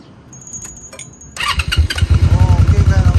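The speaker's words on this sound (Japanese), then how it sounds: "エンジン音聞かせてもらってもいいかな" Keys jingle briefly, then a 1999 Honda V-Twin Magna 250 motorcycle engine cranks and fires up into a loud, close, lumpy idle with a steady rhythmic pulse.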